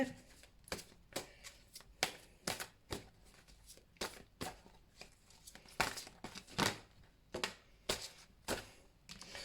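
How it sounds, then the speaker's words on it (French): Tarot-style cards being shuffled for a card reading, a run of crisp riffling bursts and taps repeating irregularly close to the mic, with faint speech-like sounds in the background. "Je prends quelques cartes pour la féminine"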